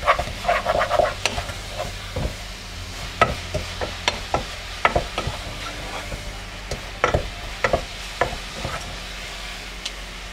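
Honey and coconut filling for lavaria cooking in a pan, with frequent sharp spoon scrapes and stirring knocks over a low sizzle, close by.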